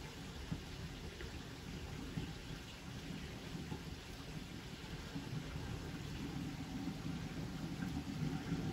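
Heavy rain pours down steadily in Konya, a dense, continuous hiss of drops hitting surfaces with a low rumble underneath, heard alone and without talk.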